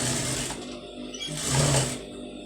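A sewing machine runs continuously while stitching a patch design onto a blouse sleeve, with a steady close mechanical whir that swells slightly in the middle.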